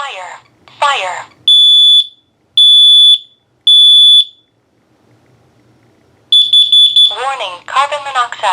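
Kidde smoke and carbon monoxide alarm giving its fire tone: three loud, long, high-pitched beeps in even succession, with voices talking before and after.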